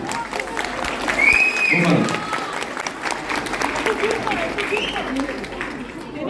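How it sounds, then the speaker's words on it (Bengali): An audience claps at a film event, a burst of applause that swells and then tapers, with voices talking over it. "এই রেকর্ড একটু জোরে হাততালি"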